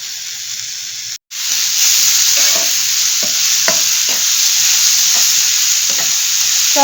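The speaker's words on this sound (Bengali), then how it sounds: "সব দিয়ে ভেজে নিচ্ছি" Onion kachori filling with coriander leaves and lemon frying in a pan, giving a loud, steady sizzle close by, broken by a brief cut near the start and a few light stirring scrapes, with no voices.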